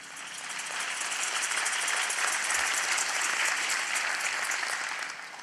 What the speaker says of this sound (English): I wanted to listen to your applause